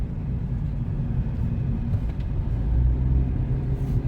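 Car interior while driving, with a steady low engine and road rumble that stays constant throughout and no speech.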